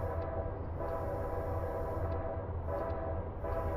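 A train horn sounds steadily at a small rural level crossing, a continuous loud tonal blast over the rumbling of the train, with no pauses across the few seconds.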